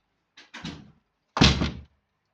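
A wooden door in the Minecraft game opening and then closing, heard as two short thudding knocks about a second apart, clear and close with no talk over them.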